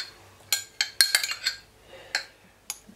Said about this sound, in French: Donc on va verser dans la casserole.